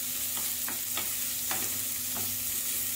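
Sliced large onion sautéing in oil for cauliflower soup, a constant sizzle broken by five or so scraping stirs of a spoon against the pan at a fairly even pace, with no talk.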